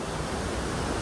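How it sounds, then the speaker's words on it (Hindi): Steady broadband roar of a waterfall rushing out of sight near a riverside temple, a continuous loud wash of falling water with no breaks and no voices. "झरने की आवाज़ आ रही है पर झरना नहीं दिख रहा है"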